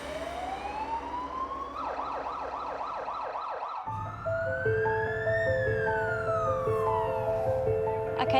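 An ambulance siren wails in rising and falling sweeps, then shifts to a different repeating pattern as the vehicle pulls away, loud and steady over low engine and road noise.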